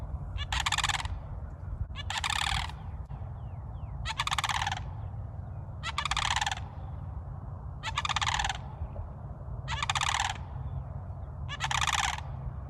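Turkeys on a Florida homestead gobble in a regular series of loud bursts about every two seconds, with a low steady rumble of background noise. No one speaks.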